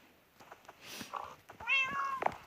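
Pet cat meowing close by, a couple of short faint mews followed by a longer rising meow, with light background rustling.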